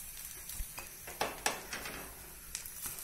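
Oil drizzled onto a rice flake batter cake frying in a pan gives a soft, close sizzle with a few sharp crackles and small spatula or pan clicks.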